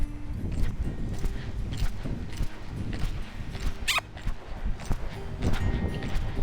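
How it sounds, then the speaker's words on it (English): A small Western horse canters on the right lead, hooves beating in a repeating three-beat rhythm at mid distance, with a brief higher snort or jingle partway through and no talk over it. "And even though she's a little Western horse, this is a canter."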